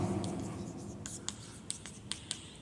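Marker or chalk strokes on a board during a Class 10 trigonometry lesson, several short sharp scratching taps spaced irregularly over a low background hum, with no talking over them.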